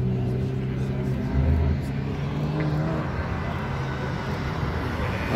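Mazda 3 race car at a sprint meeting on a dusty track, a steady engine drone with a rising pitch heard at some distance through a broad wash of outdoor noise, with a commentator talking over it.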